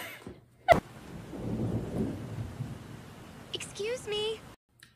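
A small thunderclap rumbles low with a steady hiss of rain during a scene from the anime Diabolik Lovers. It stays moderately faint and continuous, with a sharp crack early on and a voice talking near the end.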